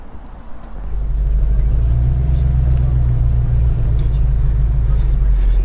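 A 1961 Ford Ranchero engine rumbles at a steady idle with a mild, throaty low-pitched note, close and continuous after a brief quieter start.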